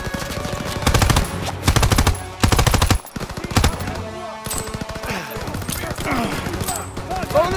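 Machine gun fire in the World War 2 video game Call of Duty, set in Aachen, Germany: loud rapid bursts of automatic gunfire in repeated volleys, broken by short pauses, with shouting voices in the mix.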